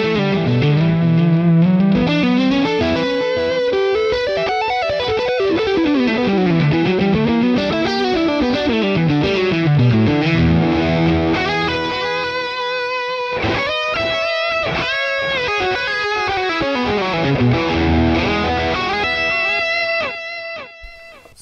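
An electric guitar played direct through a Boss Katana amp on a distorted lead tone, with sustained notes, sliding bends and fast runs, loud and continuous throughout with chorus-like shimmer.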